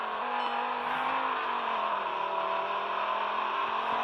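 Engine of a Volkswagen Jetta with a 2.5-liter custom engine in the Roblox game Greenville, a steady moderately loud drone holding near-constant pitch throughout, with no talking.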